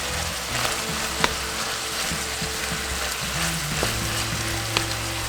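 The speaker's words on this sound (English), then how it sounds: "we're gonna add our onions into the meat, like so, and try not to spill everywhere" Onions tipped into ground meat frying in a pan for a taco casserole, giving a steady loud sizzle with a few sharp clinks and scrapes as they are stirred in.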